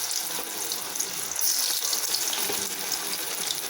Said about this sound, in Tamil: இப்போ இதை எண்ணெயில் பொரிச்சிக்கலாம்